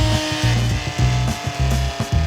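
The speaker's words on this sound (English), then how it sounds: "I'm gonna cut a really nice little half circle into this part here." Saw cutting a half-circle into a wooden slat for a garden chair seat: loud, close, rhythmic back-and-forth rasping strokes, about five in quick succession, with no talk.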